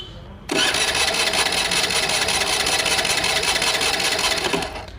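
A Honda Activa 3G scooter with a starting problem: its electric starter cranks the engine in one long continuous whirring buzz, loud and close, stopping after about four seconds without the engine catching.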